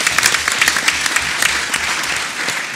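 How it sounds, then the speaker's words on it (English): Loud, close applause from the audience at a boxing press conference, a sustained wash of many hands clapping with sharp individual claps, and no talk over it. "I want to say a round of applause for Dave Allen."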